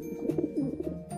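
Pigeons coo softly in a short burst of repeated low, rounded calls, a few rising and falling notes close by with no talk.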